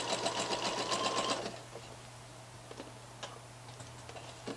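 A sewing machine stitches along the edge of a sweatshirt, running in a steady rapid mechanical burst for about a second and a half, then stopping to leave light clicks and handling taps.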